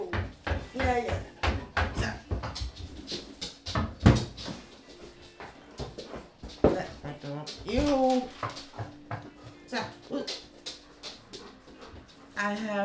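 A dog pants and whimpers close by in a room, with rapid breathy puffs and high whining cries mixed with thumps and knocks, while a person keeps talking over it.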